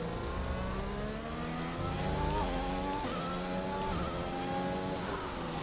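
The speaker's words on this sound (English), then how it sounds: "Listen, the car sounds good when it goes." A Formula 1 car engine in the racing video game F1 2021 screams and revs through rising and falling gear shifts, steady and fairly quiet in the mix, with no voices over it.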